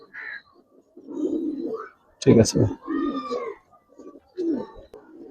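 Silver pankhi pigeons in a loft cooing in short repeated bursts, close by, with someone speaking briefly over them.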